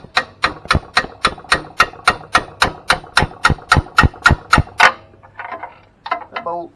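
A hammer taps a tight bolt on the engine of a 1988 Dodge D100 truck: about fifteen sharp, evenly spaced metallic strikes ring out close and loud, then stop, followed by a few seconds of faint clattering and handling noise.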